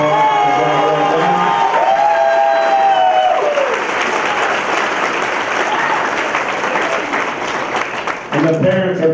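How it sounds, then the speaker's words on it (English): A dinner audience at a hall of fame awards event bursts into loud, sustained applause for scholarship award winners, with a few cheers mixed in, following a brief stretch of talking at the start. "give all the scholarship award winners a big round of applause"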